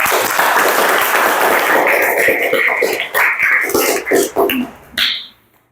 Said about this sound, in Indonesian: Mari kita memberikan aplaus kepada kita semua ya